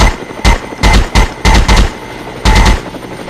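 Loud gunfire from shooting at enemies in a combat game, heard as short clustered bursts and single shots in an uneven rhythm, close and punchy.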